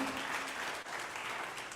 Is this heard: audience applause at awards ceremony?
yes